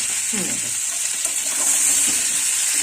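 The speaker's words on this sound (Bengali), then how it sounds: "সব দিয়ে একটু ভাজবো।" Potatoes frying in a pan with salt and chilli powder for aloo dum, giving a steady close sizzle with some stirring scrapes, continuous and fairly loud.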